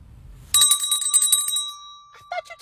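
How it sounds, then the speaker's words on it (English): A small hand bell or bicycle-style bell rings close and bright in a quick burst of strikes with a lingering metallic tone, followed by faint shuffling and a couple of softer taps. "what did they do with my bell? That's all right. I have an extra one."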